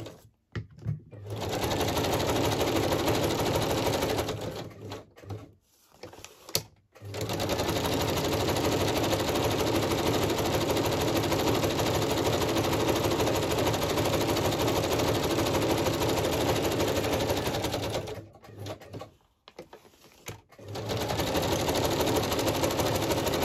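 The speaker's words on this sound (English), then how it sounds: "just turn your volume down if you don't like the sewing machine." A sewing machine stitches in long continuous runs, stopping briefly a few times before starting up again, steady and close with no talking.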